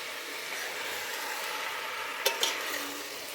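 Mushroom chops frying in a pan and being stirred slowly, a soft steady sizzle with a couple of sharp spoon scrapes against the pan near the end.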